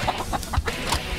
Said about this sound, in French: il y a une poule qui est dans le trouble